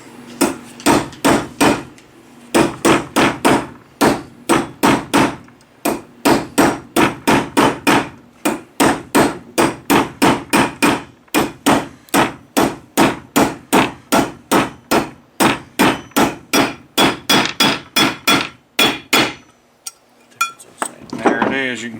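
A new wheel bearing is driven in with a hammer and bearing tool, producing dozens of sharp metallic strikes in a steady, fast rhythm with a few short pauses, loud and close throughout.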